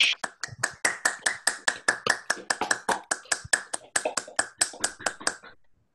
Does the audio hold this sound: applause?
yes